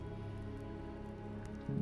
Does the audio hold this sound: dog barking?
no